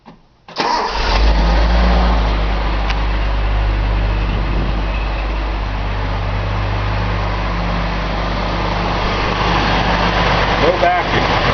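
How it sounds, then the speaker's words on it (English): A Datsun 280Z engine cranks and catches, then settles into a steady, loud idle that continues throughout. "We'll start by starting the engine."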